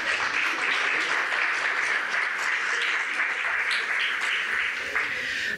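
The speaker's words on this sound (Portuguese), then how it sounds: "Também podem bater palmas" Applause from the audience at a parish union assembly in Almada, a dense, continuous clapping that holds steady and fills the room throughout.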